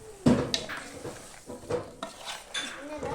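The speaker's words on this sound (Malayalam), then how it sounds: "ഇത്രയിട്ട് നല്ലോണം കൈകൊണ്ട് നല്ലോണം മിക്സ് ചെയ്യാം" Pepper chicken being mixed by hand in a metal bowl gives a few close clinks and scrapes, with brief wet squelches between them and voices murmuring in the background.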